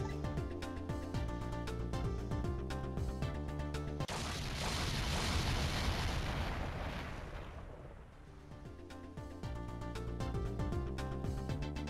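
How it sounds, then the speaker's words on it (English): In the Ghost Trick video game, a heavy rumbling explosion breaks over steady background music, swelling for about four seconds before the music returns. "I think I heard an explosion somewhere."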